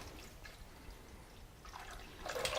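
Water is poured into a pot of collard greens cooking in seasoned water, a soft splashing rush that swells near the end after faint dripping and low background noise.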